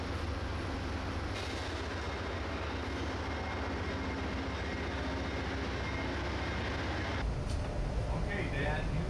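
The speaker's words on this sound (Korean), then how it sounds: "대륙 횡단 기차는 2층으로 그 크기가 어마어마하다" A double-decker transcontinental train travelling from Chicago to Denver rumbles along with a continuous, loud rolling drone, while a voice talks over it.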